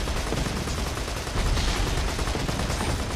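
Sniper rifle in Borderlands 2 firing in rapid automatic bursts, a loud, dense, continuous stream of gunfire with no pause across the whole stretch.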